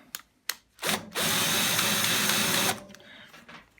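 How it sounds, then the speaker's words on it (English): A few clicks, then a cordless drill with a screwdriver tip whirs steadily for about a second and a half, loosening a screw on a Hotpoint washing machine, before stopping, close and loud. "get a screwdriver tip into my drill and loosen this off"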